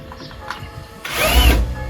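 A power drill backs screws out of plastic interior trim on a vehicle, giving a short whirring burst that rises in the second half, close and fairly loud with no voices.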